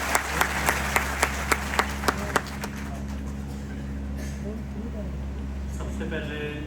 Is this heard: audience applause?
yes